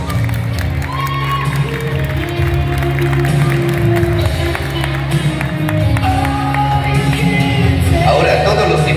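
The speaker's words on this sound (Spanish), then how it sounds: "El aplauso para sus padres." Wedding guests applaud the couple's parents, a sustained crowd clap with scattered cheers and shouts, continuous and fairly loud in a reception hall, with music and voices mixed underneath.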